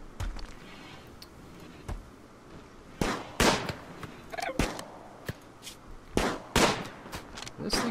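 Gunfire pops in the video game Rimworld as sharp, scattered shots and short bursts at irregular intervals, fairly close and crisp over a quiet background.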